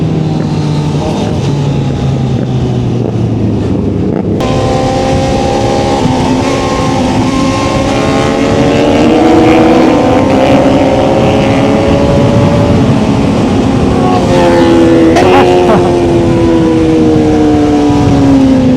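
A 2025 Honda CB1000 Hornet naked motorcycle accelerating hard in third gear, its loud engine note rising steadily in pitch over many seconds with a brief dip partway through, close and continuous throughout.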